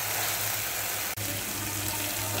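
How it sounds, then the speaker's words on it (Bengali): Water pours from a rinsed mixer jar into a cooking pot, a continuous close rushing splash with a brief break partway through. "এবার মিক্সির বাটিটা ধুয়ে জলটা দিয়ে দিচ্ছি"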